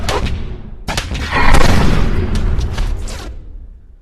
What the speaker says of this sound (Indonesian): Dan ledakan pun terjadi hingga menghancurkan rumah mereka.